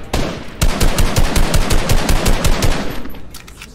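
Rapid automatic gunfire in the Fortnite battle royale game: a loud, continuous burst of evenly spaced sharp shots lasting several seconds, trailing off at the end, with no speech.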